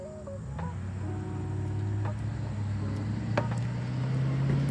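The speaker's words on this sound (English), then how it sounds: "We're on a main road. Cars driving by." Cars passing on a main road near Watercure Farm Distillery in Connecticut, a low steady engine rumble that swells and fades, with a faint bird call and small clicks above it.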